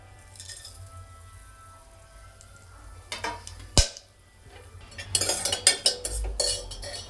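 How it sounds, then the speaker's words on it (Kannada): Masala being fried in a pan for vegetable dum biryani, with a spoon scraping and clanking against the metal over a light sizzle, then busier rattling stirs. "ಫಸ್ಟು ಮಸಾಲೆನ ಈ ರೀತಿ ಹಾಕ್ಕೊಂಡು ಫ್ರೈ ಮಾಡ್ಕೋಬೇಕು"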